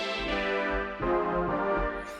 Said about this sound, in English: I've got this preset called Neon Heaven, and it's just a simple sound